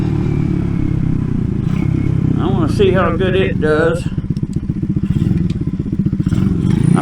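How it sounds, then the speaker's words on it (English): A small RPS Racer 140 mini bike engine runs steadily with a dense, rapid low-frequency putter, close by, under someone talking briefly. "so you can hear the mini bike or the bike running"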